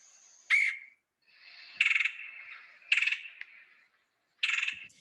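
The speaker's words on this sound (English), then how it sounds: "red-bellied woodpecker. And let's look at listen to the sounds real fast. Kind of harsh." A red-bellied woodpecker gives four harsh, rolling churr calls, each a short loud burst spaced about a second apart, close and clear against a quiet background.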